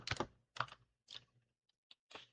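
A date is typed on a computer keyboard in a few quick bursts of key clicks, close and fairly quiet, with short pauses between them and no talking.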